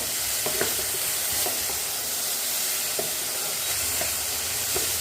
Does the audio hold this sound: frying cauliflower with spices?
yes